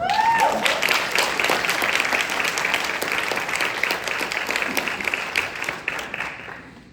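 Applause fills a hall at an AVID Institute gathering as a speaker is welcomed on stage, crisp claps from many hands, loudest at first with a brief vocal cheer, then gradually thinning and fading away.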